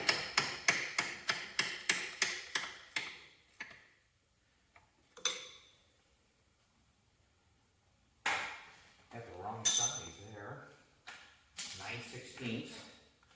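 A Milwaukee 1/2 inch impact wrench tightens bolts while fitting the motor and drive shaft on a Cub Cadet 782 diesel tractor, firing a rapid run of sharp, loud hammering bursts, then pausing before later bursts and clatter, with someone talking in between.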